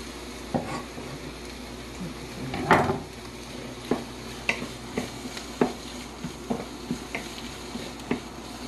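Sautéed ingredients for a beef soup are stirred together in a pot, with a series of scraping and tapping strokes at an uneven rhythm over a soft background sizzle, and no speech.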